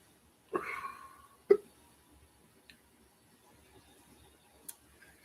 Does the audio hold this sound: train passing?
no